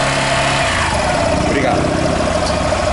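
A 2019 Yamaha Fazer 150 motorcycle engine held steady at about 4,500 RPM, a continuous mid-pitched hum with no gaps, heard close up under a faint voice. The bike has a fault where it does not charge its battery.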